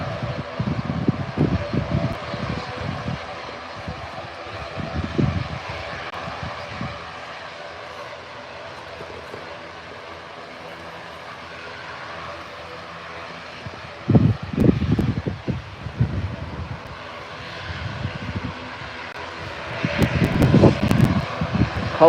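Propeller aircraft passing overhead at Birmingham airport, a low droning engine with wind buffeting, swelling in bursts over about twenty seconds and loudest toward the end.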